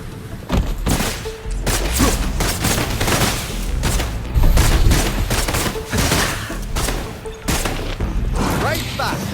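Gunfire in the video game Wuthering Waves, with dense bursts of shots and booming impacts that repeat loudly throughout, layered over game effects with a voice talking now and then.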